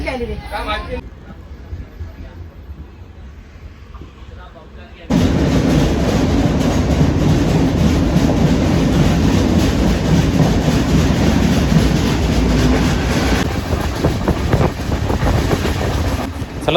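Konkan Railway superfast train running along the Konkan coast between Khed and Chiplun, heard from on board as a steady loud rumble and rattle of wheels on track, with a quieter stretch at first before the full roar sets in.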